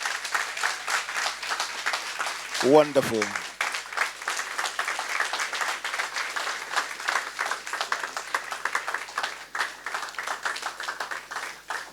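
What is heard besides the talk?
audience applause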